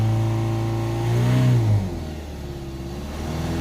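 A Ford Transit 2.2 diesel van engine with an underboost fault revs up from idle, climbing to a brief peak and then dropping back to a steady idle, close and moderately loud.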